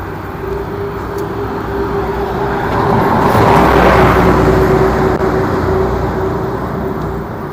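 Busy city street traffic in Greece, with a continuous loud roar of cars and buses that swells as a vehicle passes close by, over a steady low engine rumble and no talk.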